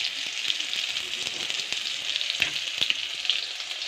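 Vegetables and eggs frying in a hot pan for a taro and egg curry, a steady dense sizzle with occasional sharper crackles and pops, close and continuous without talk.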